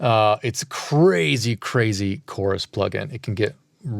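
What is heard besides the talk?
None of the usual background noises is heard.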